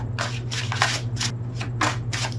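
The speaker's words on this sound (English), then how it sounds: "One more shuffle." Tarot cards are shuffled up close in quick, rhythmic riffles, with a low steady hum underneath.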